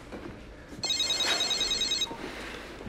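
A telephone rings once with a bright electronic trill lasting just over a second, fairly clear against a quiet room.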